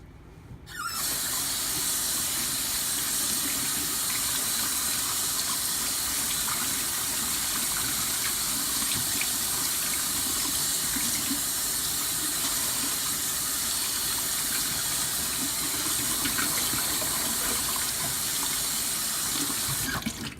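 Tap water gushes steadily into a sink while a knife is washed with soap, a loud continuous splashing hiss that starts abruptly and runs unbroken to the end, with no talking.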